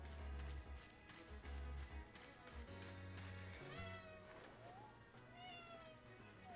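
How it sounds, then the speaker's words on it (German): A pet cat meows and yowls repeatedly, rising and falling, over game music and background sound in a room. "Meine Katze morzt da die ganze Zeit vor sich hin."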